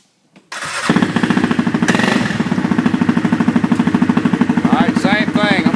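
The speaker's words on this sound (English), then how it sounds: "I'm just going to crank it up." A Yamaha Wolverine engine cranks over and catches, then runs loud and close with a rapid, even chugging pulse and a couple of revs near the end.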